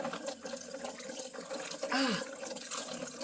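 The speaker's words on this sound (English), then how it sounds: "I'm gonna wash my hands" Tap water runs into a small kitchen sink while hands are washed, a steady close splashing rush with a brief rising pitch sweep partway through.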